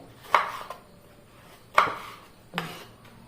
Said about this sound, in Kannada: ಈ ದಪ್ಪದ ಬದನೆಯನ್ನು ನಾನು ಒಂದನ್ನು ನಾಲ್ಕು ಭಾಗ ಮಾಡ್ತಾ ಇದ್ದೇನೆ